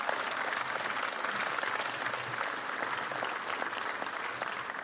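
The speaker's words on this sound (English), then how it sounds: "Let's give them a round of applause as well." A university commencement crowd applauds steadily, a continuous wash of many hands clapping at moderate volume, with no voices over it.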